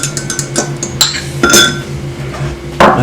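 Quick clinks and taps of a utensil against a bowl while doughnut batter is stirred, a few sharp metallic-glassy hits scattered over a soft background hum.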